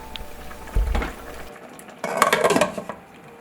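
A metal spoon scrapes scorched rice crust (nurungji) from the bottom of a pot in a series of quick, rough, close scratches, preceded by a softer clunk and rustle.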